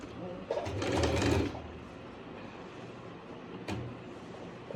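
A sewing machine stitches salwar fabric in one short whirring burst near the start, then a quieter stretch follows with a single brief mechanical click near the end.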